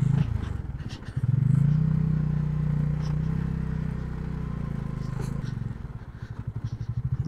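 A motorcycle rides along a dusty, unpaved off-road track, its engine droning loud and close with a surge in revs, then a pulsing thump as it slows and idles, with a voice talking over it.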